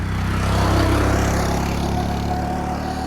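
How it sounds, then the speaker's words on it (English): Steady, loud road traffic with an engine droning close by and motorbikes buzzing past, a continuous rumble throughout. "currently we are picking up all the road noises, motorbikes going through"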